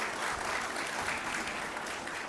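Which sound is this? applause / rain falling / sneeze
applause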